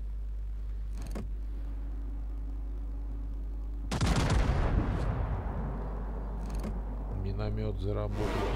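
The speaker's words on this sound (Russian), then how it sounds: "Орудий шмальнули в сторону и один раз попали." Warship guns firing in the naval battle game World of Warships: a sharp, loud salvo crack near the middle, followed by rumbling decay and a few fainter shots, over a steady low engine hum.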